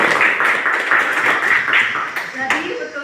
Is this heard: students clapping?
yes